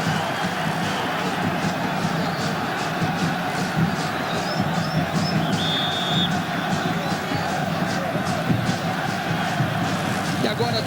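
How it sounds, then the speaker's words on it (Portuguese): Brazilian football stadium crowd in a 1998 Vasco versus Santos match chanting "frangueiro" at goalkeeper Emerson Leão, a loud continuous mass of voices roaring steadily throughout with rhythmic pulses. "E agora a torcida que tanto aplaudiu grita frangueiro."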